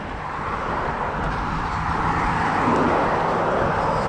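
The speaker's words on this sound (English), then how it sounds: "you're also probably getting a bunch of noise from the traffic driving down the road here" Steady road traffic noise from vehicles driving down a road during a six-mile run, a continuous broadband rumble and hiss that swells slightly toward the end with no breaks.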